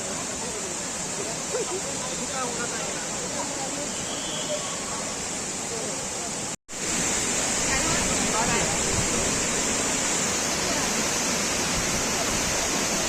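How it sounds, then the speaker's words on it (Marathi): Vasundhara waterfall at Bhandardara roars in a loud, unbroken rush of falling water, a dense steady wash of noise that fills the whole stretch apart from one brief cut. "आपण पोहोचलोय आता वसुंधरा वॉटरफॉल"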